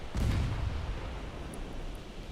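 Warship main guns fire in Ultimate Admiral Dreadnoughts, a naval battle game with battleships: a single deep, heavy boom near the start, then a long rumbling decay over low background noise.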